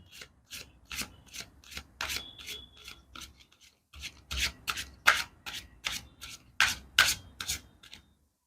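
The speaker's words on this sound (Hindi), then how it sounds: "आइए सबसे पहले कार्ड शफल करके निकाल लें एरीज फ्रेंड्स के लिए" Tarot cards are shuffled by hand in a quick series of crisp riffling, rasping bursts with short pauses between, close and fairly clear, with no voices.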